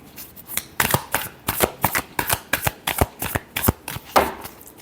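Tarot cards shuffled by hand in a steady series of crisp riffling bursts, about a dozen quick flutters close up, with no talking.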